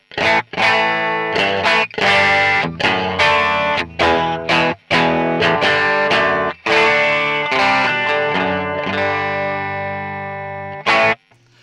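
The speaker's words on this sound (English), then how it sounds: "we'll just hear the Deluxe Reverb patch on its own" Electric guitar chords played through a Deluxe Reverb amp patch on a Zoom MS-50G, edge-of-breakup tone, strummed in short bursts with brief pauses, ending on a long ringing chord.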